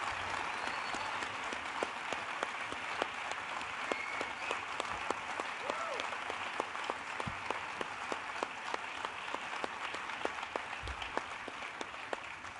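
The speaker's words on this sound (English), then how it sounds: "think your applause is bigger than mine" An audience at a nonprofit launch event keeps up a continuous round of applause with crisp individual claps standing out, moderately loud and unbroken throughout.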